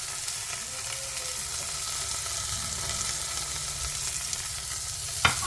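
Sausages and bacon sizzle steadily in a frying pan for an English breakfast, a dense continuous crackle at close range with a brief sharper clatter near the end.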